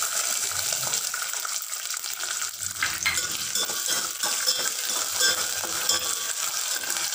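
Lima beans sizzle and crackle in oil while a spoon stirs them, a close, continuous frying hiss with scraping stir strokes throughout.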